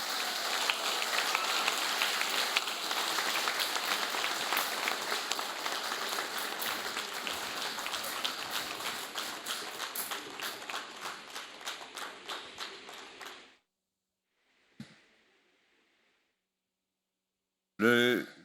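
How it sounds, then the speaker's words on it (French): At a ceremony commemorating the abolition of slavery in Mauritius, an audience claps loudly and at length, the applause thinning into scattered claps before it stops, followed by a brief silence and a burst of sound at the end. "On applaudit bien fort"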